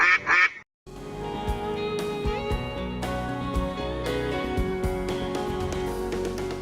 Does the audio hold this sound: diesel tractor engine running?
no